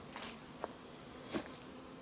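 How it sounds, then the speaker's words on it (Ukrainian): Faint, brief buzzing passes of flying insects, a couple of quick hums rising over a quiet background. "якось бджоли стають менш активні, ну типу видно польоту"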